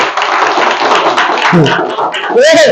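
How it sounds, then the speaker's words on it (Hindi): An audience at a school welcome gathering for staff breaks into loud, dense clapping for about a second and a half, after which voices take over. "तो जोरदार ताली बजाना चाहिए"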